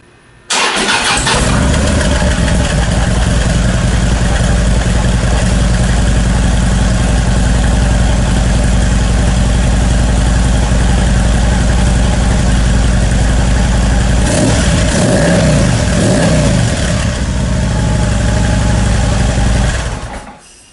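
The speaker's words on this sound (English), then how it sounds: "this is what the 2016 CVO Street Glide sounds like with stock exhaust" A 2016 Harley-Davidson CVO Street Glide on its stock exhaust fires up and settles into a loud, steady, close idle, with a burst of revving partway through before shutting off.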